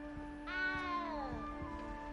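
A frightened little cat meows in a video game castle, one drawn-out, falling meow rising over a steady background hum, close and clear with no talk.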